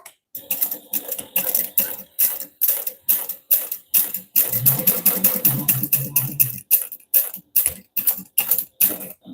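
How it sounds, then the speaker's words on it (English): A sewing machine top stitching vinyl in quick bursts, rapid mechanical clatter starting and stopping repeatedly, close and fairly loud with no talking. "I'm going to top stitch along whatever edge of this I want to be the top edge"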